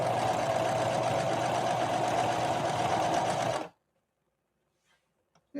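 A Singer 5808C sewing machine stitches a blind hem in a steady, loud, continuous mechanical whir for several seconds, then stops abruptly into near silence.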